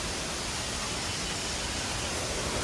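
Waterfall along a hiking trail in Taiwan, a dense, constant roar of falling water filling the scene, steady and loud with no pauses.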